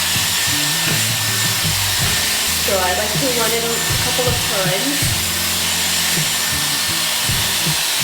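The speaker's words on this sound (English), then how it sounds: "Let me turn on the dryer." A Dyson hair dryer blows steadily throughout as a hair blowout is styled, a constant close airy hiss with a person talking over it.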